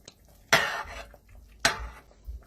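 Spinach being folded into agushi stew in a pot gives two distinct scraping, clattering strokes of a spoon against metal, close and clear with quiet gaps between.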